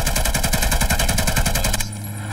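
Rapid automatic gunfire in the video game Hired Ops rattles in a fast, even burst of about twenty shots, loud and close, then cuts off abruptly into a quieter background.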